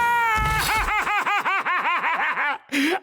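Cartoon cat yowling in a rapid run of about a dozen bouncing, wavering meows, loud and close, ending with a short squeal after a brief pause.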